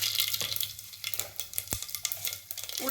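Mustard seeds hitting hot oil in a pan, a close, dense crackling sizzle with quick pops and scraping stir strokes over a steady hiss.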